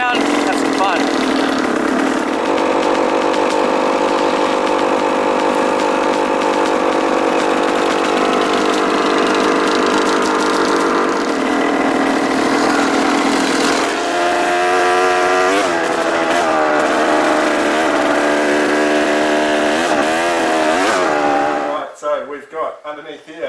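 A KTM motorcycle engine revs and rumbles steadily up close as the bike is ridden around, with the pitch rising and falling through throttle changes before the sound cuts off abruptly at the end.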